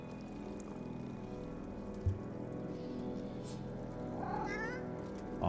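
An undead cat creature in the fantasy role-playing game Divinity: Original Sin 2 meows and yowls over a steady ambient drone, with a soft thump and a rising, wavering cry near the end.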